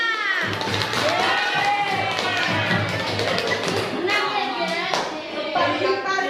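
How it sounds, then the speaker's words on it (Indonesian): Children clap their hands in a classroom during a school teaching session, a quick patter of claps mixed with lively kids' voices and chatter throughout. "beri tepuk tangan untuk kakaknya"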